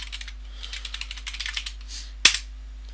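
Quick irregular keystrokes on a computer keyboard as a password is typed during a Windows Server 2003 install, soft clicks in a short burst ending with one sharp louder key press.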